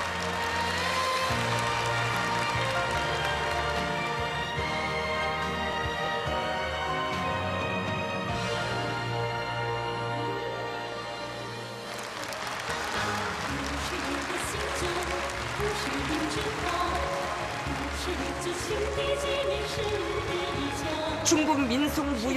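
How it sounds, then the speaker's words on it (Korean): Enthusiastic applause from a large crowd in a stadium during a mass performance celebrating friendship between two countries. The clapping is a steady, dense roar throughout, with music and broadcast sound mixed in. "장내에는 열렬한 박수가 터져 올랐습니다."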